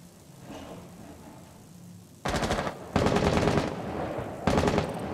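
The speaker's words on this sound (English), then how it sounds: "Shooting through that trophy window." Automatic gunfire in the tactical shooter Rainbow Six Siege: after a quiet start, three loud, rapid bursts of machine-gun fire, the middle one longest, sharp and close.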